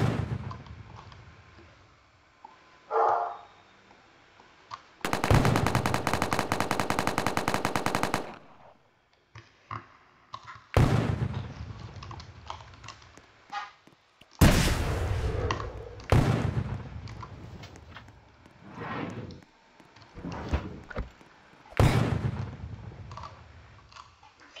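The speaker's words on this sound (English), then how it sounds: "Oh gosh, someone shot at me." Bursts of gunfire in the video game EarthScape Tycoon: a long sustained rattle of automatic fire, then several sharp, loud volleys and single shots separated by short silences.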